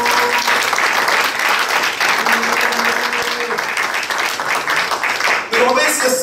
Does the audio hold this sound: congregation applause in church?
yes